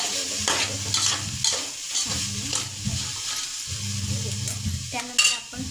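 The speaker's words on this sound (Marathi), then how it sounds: "तर मी आता परतून घेते।" Grated coconut being sautéed in ghee in a pan, with repeated close scraping strokes of a spoon over a steady low sizzle.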